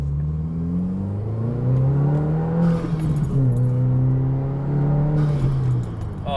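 A 2022 Subaru WRX fitted with an ETS intake accelerates hard through a pull, its engine drone rising and falling steadily in pitch with continuous intake and exhaust roar heard from inside the car.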